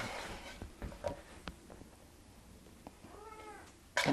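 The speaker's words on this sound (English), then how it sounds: "There's our crazy kitty," A pet cat yowls in a kitchen, with drawn-out wavering meows late on and a loud cry at the end, over faint clinks and soft household noise.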